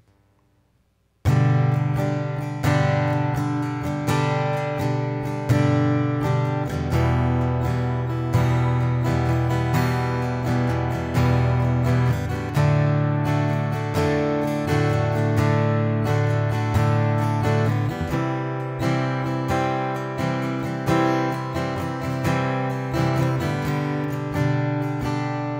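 Strummed acoustic guitar chords move through a steady progression, each change marked by a fresh strum, played alone at a relaxed, even pace.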